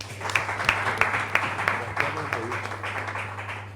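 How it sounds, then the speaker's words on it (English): Audience applause at a book launch: a crowd claps steadily for several seconds, with sharper individual claps standing out over a low hum and murmur in the room. "Let's clap for this book."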